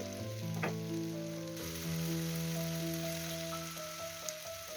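Meat and onion sizzle in a pan for a spinach pirozhki filling, an even crackling hiss that continues beneath prominent tonal music, with no talking.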